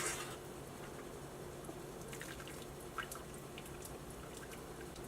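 Bone broth from a roaster oven pours through an Asian-style mesh strainer with faint trickling and scattered drips, quiet and close, and no one speaks.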